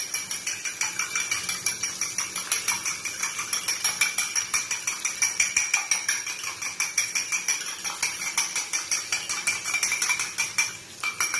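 A fork or whisk rapidly beats a salted egg in a bowl, a fast, steady rhythmic clatter of metal against the dish that continues nearly unbroken for several seconds.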